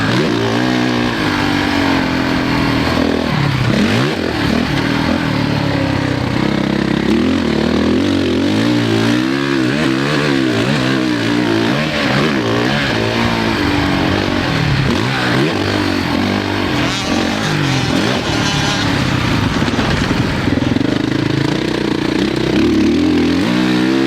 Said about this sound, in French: Va me voir rouler en 450 pour la première fois.